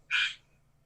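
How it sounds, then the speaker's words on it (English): A single short croak from a frog inside a house, one brief raspy call that sounds fairly close, then silence. "there's a frog in my house again."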